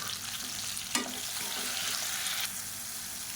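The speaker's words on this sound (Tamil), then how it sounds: "இப்போ தக்காளி வெங்காயம் ஓரளவுக்கு வதங்கிருச்சு." Tomatoes and onions sautéing in a pan, a steady soft sizzle with a stirring scrape partway through, close and alone without talk.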